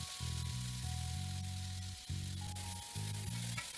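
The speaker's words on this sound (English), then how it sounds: "You can hear it sizzle" Oil sizzling and crackling steadily in a pan, a constant hiss with low humming tones running beneath it.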